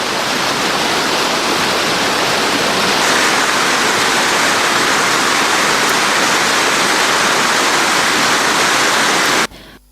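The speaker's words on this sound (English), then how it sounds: "Sluice gates of Tarla Gangvilla Reservoir were opened today as well." Water roars through the opened sluice gates of the Tarla Gangvilla Reservoir, a loud, dense, continuous rush with no voices, cutting off abruptly at the end.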